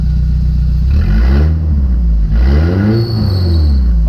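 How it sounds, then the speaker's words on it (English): Straight-piped van with no muffler, running loud and close with a raw low exhaust rumble that rises and falls through rev swells, harsh and aggressive, with no talking. "One little rev."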